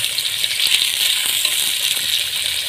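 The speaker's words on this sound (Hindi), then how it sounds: "प्याज को, टमाटरों को इस तरह भून लेंगे।" Onions, tomatoes and green chillies frying in a pan for kaleji masala, a steady hissing sizzle with faint scraping stirs throughout, no talking.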